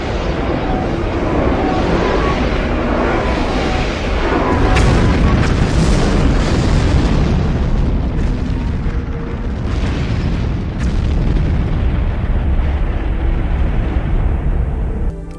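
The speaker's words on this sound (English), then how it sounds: "Fire on them both, Babylon 5. Blow them both up." Explosions from a Babylon 5 television episode, a dense continuous roar of booms and blasts with loud bursts and rumbling, heavy and sustained throughout, no clear talk.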